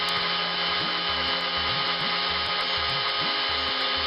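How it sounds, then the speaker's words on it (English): A power drill working on a part during a Chevrolet Corvair restoration, a loud continuous whirring motor with repeated rising and falling pitch swoops as the bit bites and frees, close and alone. "Once you finish drilling,"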